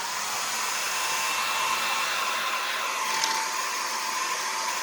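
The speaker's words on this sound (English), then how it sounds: "So I'm going to take my hair dryer and see if I can harden those in" A hair dryer blows steadily and loudly throughout, drying finger paint on a fish painting with a constant rushing whir and no pauses.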